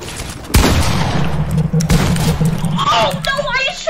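Rapid bursts of gunfire in an online first-person shooter, with a sharp report at the start and a second one mid-clip, under ongoing game noise and talk.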